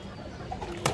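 Domestic pigeons give a brief, faint stir, ending in a short, sharp flurry of flapping wings close by.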